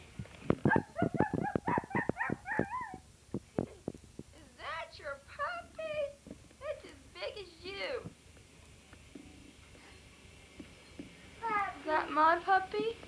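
A puppy heard during a family home video from December 1995, with short yips and whimpering howls in bursts among nearby children's and adults' voices.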